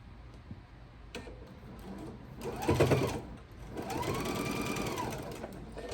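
A sewing machine stitches a scant quarter-inch straight seam across a quilt block. Two short bursts of rapid mechanical stitching are heard at moderate volume, separated by a brief pause.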